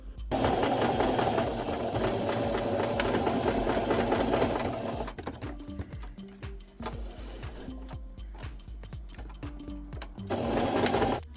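Sewing machine stitching vintage-style fabric napkins, a steady loud whirring run for several seconds, then short stop-start bursts and pauses before a final sustained run.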